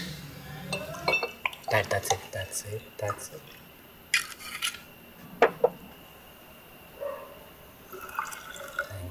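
A small drink is mixed with water in a glass at home, with clinks of glass and bottle, a short pour and drips, scattered and close, while people talk.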